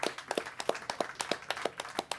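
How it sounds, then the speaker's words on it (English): A small audience claps at a Cannes Lions 2016 advertising session, a sparse, loosely rhythmic run of distinct nearby handclaps rather than a full ovation. "Round of applause. Round of applause."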